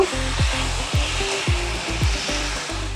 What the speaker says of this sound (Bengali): কিছুক্ষণ সময় কষিয়ে নেব।